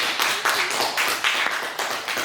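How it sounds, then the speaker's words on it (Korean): A church congregation clapping, a short spell of many hands applauding together, steady and moderately loud, tapering slightly after two seconds. "박수"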